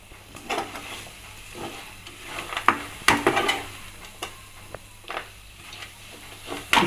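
Masala for peanut garlic rice fries in a pan with a soft sizzle, while a spoon stirs and scrapes against the metal in irregular clinks and knocks.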